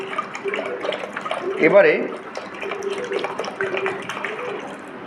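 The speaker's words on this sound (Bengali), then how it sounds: "পুরো জলটাই এর মধ্যে দিয়ে দেবো আমি, 1 লিটার জল এনাফ।" About one litre of water is poured into a container holding almond leaves. The pouring gurgles briefly and splashes faintly beneath a person speaking close by.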